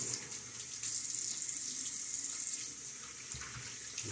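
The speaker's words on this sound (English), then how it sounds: "A splash of water." Water runs steadily from a tap during a wet shave with a Timeless 68 OC safety razor, a continuous close splashing hiss with no pauses.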